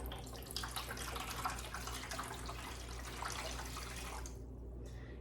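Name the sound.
pouring liquid into hydroponic reservoir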